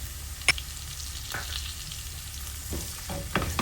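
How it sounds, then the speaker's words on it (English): Spices such as coriander, chili powder, black pepper, turmeric and garam masala sautéing in a pan for beef kofta: a steady low sizzle with occasional scraping stirs and a sharp utensil tap, close and alone without talk. "Saute for another 1 minute."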